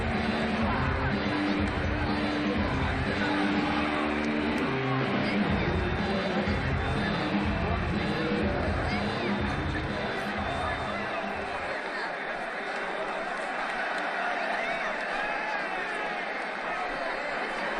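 A virtual cricket stadium crowd roars with sustained broadband cheering and chatter throughout a match in a cricket video game, ICC Champions Trophy, India vs New Zealand; a low rhythmic pulse underneath drops away near the end while the crowd noise continues.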